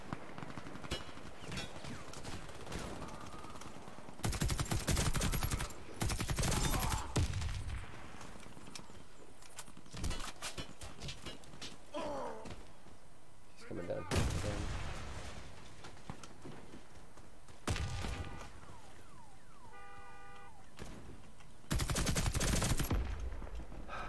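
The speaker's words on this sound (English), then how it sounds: "Who's shooting me?" Gunfire from the PC shooter Warface comes in loud automatic bursts and scattered shots, several heavy volleys spread across the stretch with quieter firing and movement between them, and no talk over it.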